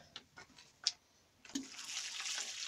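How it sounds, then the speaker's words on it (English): Water poured from a can onto a pot filled with horse manure topped with potting compost, a few soft splashes giving way to a steady, close trickle and patter soaking in. "What I'm going to do now is water it."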